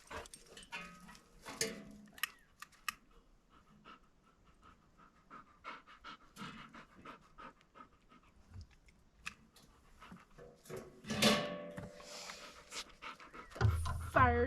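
A silver Labrador named Kira pants in quick, uneven bursts close by outdoors at a backyard fire pit, with occasional chewing and whimpering sounds mixed in and brief louder rustles near the end.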